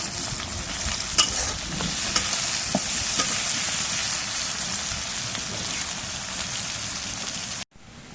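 Chopped onions and green chilies frying in oil in a pan for a goat meat and potato curry, with a steady close sizzle and occasional scraping stirs throughout, no talking.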